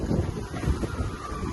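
Strong wind buffets the microphone outdoors during a storm, a steady low roaring rumble with gusty swells throughout and no voices.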